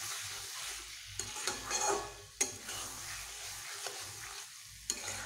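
A salted curry mixture is stirred and sautéed in a pan, with scraping spoon strokes and a soft sizzle, plus a couple of sharp clinks against the pan over about five seconds.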